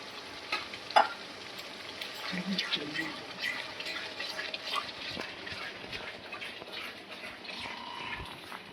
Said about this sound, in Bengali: মশলাটাকে ভালো করে কষছি